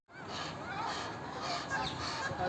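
Birds at a large garden bird sanctuary in Iran housing many species, with a dense continuous chorus of honking, goose-like calls from many fowl close by, steady throughout.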